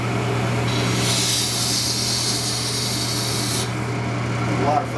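A turning tool cuts air-dried hard maple on a wood lathe, producing a continuous hissing shave over the steady motor hum, loud and close, with a stronger cutting stretch in the middle.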